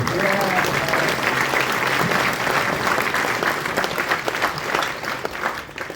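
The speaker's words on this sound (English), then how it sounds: "I think we can have a round of applause for Greenie." A live audience at an in-conversation event with a guitarist applauds his guitar Greenie, a dense, steady wash of clapping that holds for several seconds before thinning slightly at the end, with a voice faintly audible beneath.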